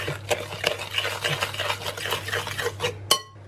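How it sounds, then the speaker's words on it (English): Brown demerara sugar being mixed into cookie dough in a bowl, a close run of rhythmic scraping and clinking utensil strokes against the bowl, with one sharper knock near the end before it quiets. "And we'll give that a good mix through."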